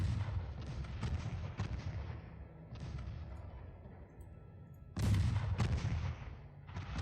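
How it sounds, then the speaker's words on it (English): Torpedoes strike warships in the naval game Ultimate Admiral Dreadnoughts, making a barrage of heavy booming impacts that swell and overlap, with a fresh loud burst of hits near the end. "There's another whole crap load of torpedoes. 13 torpedo hits."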